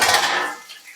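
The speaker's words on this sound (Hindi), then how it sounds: "मैं जूठे बर्तन धो रही हूँ" Dirty dishes and metal utensils being washed make a brief clatter of cutlery and dishware, a single close metallic clink that rings out and then fades, with no voices.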